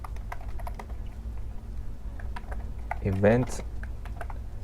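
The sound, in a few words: typing on a computer keyboard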